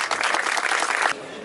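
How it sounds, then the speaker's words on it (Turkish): Audience applause at the opening ceremony of a school in Bandırma, Turkey, a dense burst of clapping from a crowd that cuts off after about a second. "Başkan Yardımcımız Sayın Niyazi Yeloğlu huzurlarınızı alkışlarla rica ediyorum."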